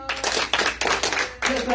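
Audience applause at a church gathering, dense overlapping hand claps filling the short stretch, loud and close, with voices mixed in.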